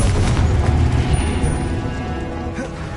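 A loud, booming blast from the Confringo spell in the Hogwarts video game, a deep explosive burst that rolls off and fades over a few seconds.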